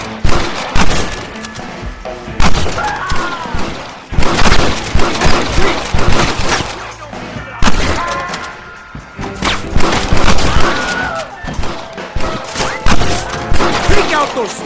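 A Red Dead Redemption shootout: repeated bursts of gunfire and heavy thuds rattle in quick, irregular volleys, loud and dense throughout, with shouting voices mixed in.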